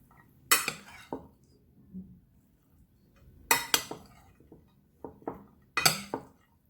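Wild rice side dish with dried cranberry, pomegranate and parsley being mixed in a bowl, giving scattered clinks and scrapes of a utensil against the bowl in spaced clusters, close and clear, without talk.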